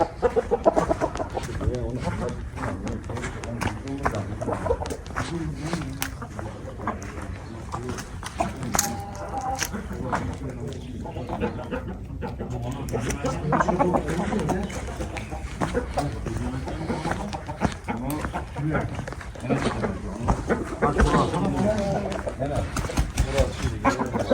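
Chickens cluck steadily throughout, mixed with people talking nearby and some rustling farmyard noise.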